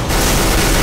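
A flashbang grenade goes off in a CS:GO match, a sudden, very loud blast that saturates the sound for under a second, harsh and overwhelming right up close.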